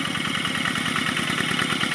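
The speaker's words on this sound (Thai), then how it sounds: "นี่ผมพามาดูรถไถครับ เป็นรถไถเดินตามครับ" A walk-behind tractor engine chugs at a steady idle, its rapid regular firing pulses close and loud, with no voices over it.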